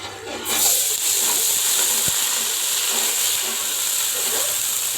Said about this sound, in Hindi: सूजी डालते वक्त आपने थोड़ा केयर करनी है, क्योंकि इस वक्त घी गर्म है और बिल्कुल वो उछलेगा